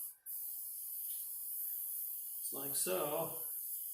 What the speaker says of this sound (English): So I just go around, just spray it on.